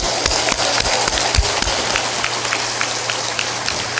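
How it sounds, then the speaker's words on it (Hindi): A large audience at a spiritual discourse claps loudly, producing dense, steady applause with sharp individual claps standing out throughout. "ताली बजा दो जोरदार।"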